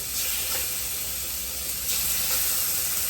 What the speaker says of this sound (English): we have a hot skillet ready to go, so we're going to add our shrimp